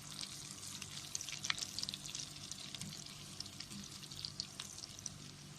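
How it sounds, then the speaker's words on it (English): A Scotch egg deep-frying in oil on a medium flame gives a continuous, even crackling sizzle with dense bubbling pops, steady throughout and unaccompanied by voices. "Remember to fry this on a medium flame"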